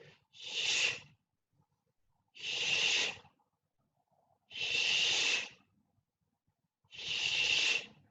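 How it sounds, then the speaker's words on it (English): Slow, deliberate breaths during a Pilates pelvic-tilt exercise, four long airy exhalations close to the microphone, evenly spaced with quiet pauses between them. "And breathe."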